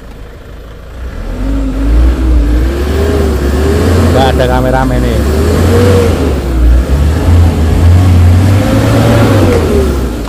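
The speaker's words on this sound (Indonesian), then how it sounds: "Sekarang kita coba geber-geber gas ya." A Hyundai Starex diesel MPV engine with a turbo is revved repeatedly, the pitch rising and falling in waves with a whining turbo, loud and close while someone talks over it.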